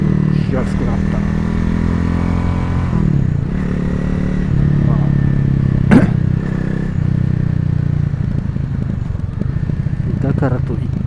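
A Honda CRF250L motorcycle engine revs and accelerates close up, a steady droning roar with rising and falling pitch and loud bursts of throttle throughout, no talking.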